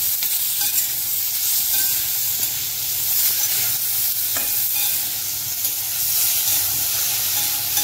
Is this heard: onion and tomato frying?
yes